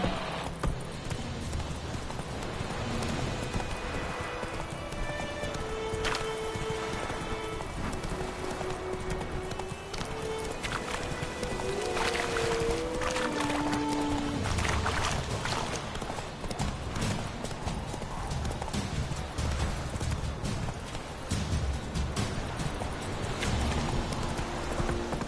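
Hooves of Roach, a horse in The Witcher III: Wild Hunt video game, clip-clop steadily throughout at a trot, with faint rain and scattered game ambience behind them.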